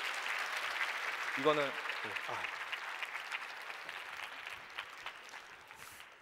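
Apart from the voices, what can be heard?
audience applause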